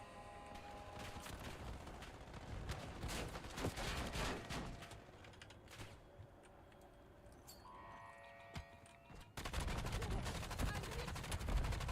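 Rapid video game gunfire, bursts of shots crackling in fast clusters over a busy game soundscape, growing denser and louder near the end.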